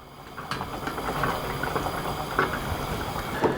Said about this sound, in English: cook this further for about another 8 to 10 minutes, continually giving this a stir until all this liquid that's in there is reducing away